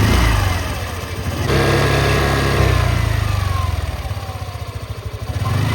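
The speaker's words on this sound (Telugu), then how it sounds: "ఒకసారి ఇంజన్ నోట్ అయితే వినండి." A motorcycle engine idles smoothly with a steady low rumble, with a couple of slight swells in revs, close and loud with no voices.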